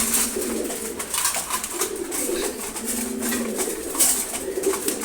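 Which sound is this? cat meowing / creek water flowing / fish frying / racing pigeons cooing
racing pigeons cooing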